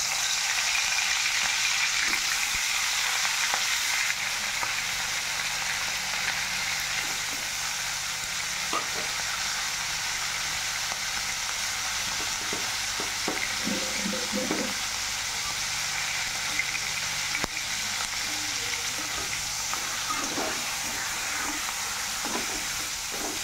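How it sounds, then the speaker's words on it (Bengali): Fish heads fry steadily in oil in a hot wok until reddish-brown, a continuous crackling sizzle with occasional scraping stirs, close and fairly loud throughout. "এখন লাল লাল করে মাছের মাথাগুলোকে আমরা ভেজে নেব"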